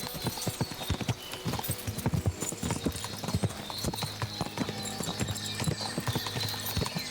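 Steady clip-clop of horse hooves trotting in a quick, even rhythm in Kingdom Come: Deliverance II, with game music and ambience playing underneath.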